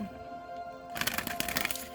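A deck of tarot cards being shuffled: after a quiet second, a quick, close burst of riffling flutters and light snaps fills the rest of the moment.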